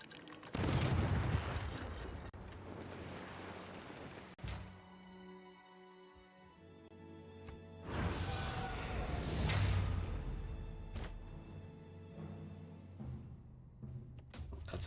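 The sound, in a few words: crossbows versus cannon battle in video game Civilization VI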